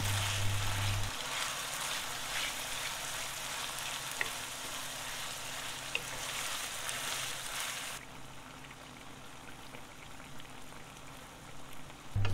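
Meat cooking in a pot for a spiced coriander beef dish, a steady soft sizzle and bubbling crackle that runs evenly, then drops quieter toward the end.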